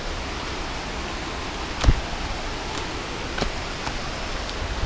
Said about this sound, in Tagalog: Yo, naririnig ko na yung falls.